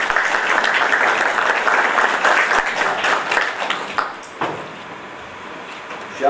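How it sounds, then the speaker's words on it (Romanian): Applause for an award recipient at a 60th anniversary ceremony of an agricultural research station, loud close clapping for about four seconds that then thins out to scattered claps and room noise. "o felicit și o aplaudăm cu toții"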